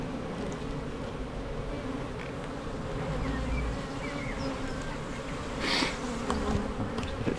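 Honey bees buzz loudly and continuously around an open hive during an inspection just after a swarm, a close, thick drone with faint knocks and rustles of frames being moved.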